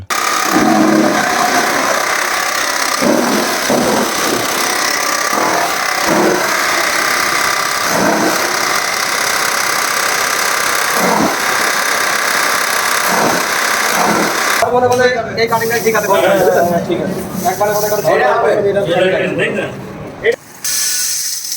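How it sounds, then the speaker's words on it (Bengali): A two-in-one multifunction grass and straw cutting machine for farm use runs with a loud, steady mechanical drone and rattling, its tone shifting partway through as voices speak over it. "মেশিনটি এখন একটু চালিয়ে দেখা হোক মেশিনটির পারফরমেন্স কেমন।"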